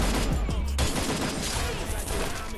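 Sustained automatic gunfire from the video game Free Fire, dense and loud throughout with almost no gaps, with faint traces of a voice underneath.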